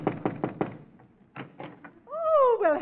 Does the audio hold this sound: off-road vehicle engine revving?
no